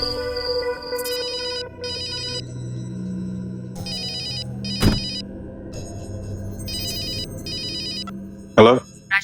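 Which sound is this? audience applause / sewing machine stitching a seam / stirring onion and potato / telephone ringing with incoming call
telephone ringing with incoming call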